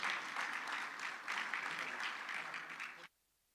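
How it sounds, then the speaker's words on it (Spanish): An audience claps loudly in welcome for a government minister at a forum, a dense steady applause that swells slightly midway and then cuts off abruptly into near silence. "Nicolás Grau, a quien le damos un fuerte aplauso"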